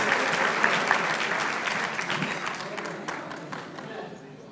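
Wedding guests break into lively applause, a dense crowd clapping that is loud at first and gradually fades, with brief voices underneath.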